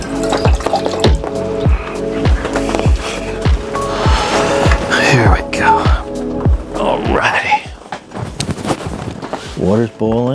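Boiling water is poured for hot chocolate at an outdoor camp stove in the wind; steady rhythmic clicks come first, then a rising gurgling fill near the end, with voices heard faintly.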